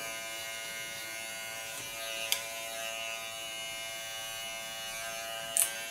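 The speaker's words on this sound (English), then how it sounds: "Go to my small clipper again." Small electric hair clipper buzzing steadily while cutting hair for a punk A-line bob, a continuous close-up whine with a couple of brief clicks and no talking.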